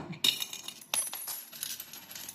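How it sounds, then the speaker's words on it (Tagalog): Old Spanish and Philippine coins, including 1940 pesetas, dropping and clinking in a pile, a quick run of bright metallic jingles and taps that settles into softer rattling. "ang dami pong barya sa ito."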